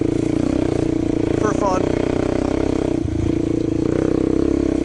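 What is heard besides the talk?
Suzuki LT-Z400 ATV engine riding on sand dunes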